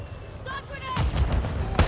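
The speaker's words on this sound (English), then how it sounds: "Stun grenade!" A stun grenade goes off in Call of Duty, a sharp blast followed by a rumbling burst and another hit near the end, heard up close after a short synthetic voice callout and a few electronic tones.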